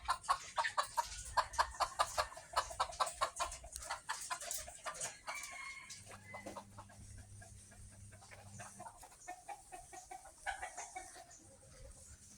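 Chickens clucking and calling close by, a young four-month-old rooster among an old hen, with repeated short clucks and squawks in bursts, no talking.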